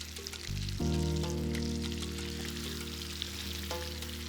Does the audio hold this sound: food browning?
yes